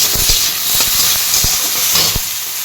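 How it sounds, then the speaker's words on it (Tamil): Tomatoes sautéing in a pan over a low flame for an Odisha-style prawn thokku, a close, loud, constant sizzling hiss with occasional soft taps and clicks, no talking. "லோ ஃப்ளேமில் வச்சு நம்ம இதை வதக்கலாம்."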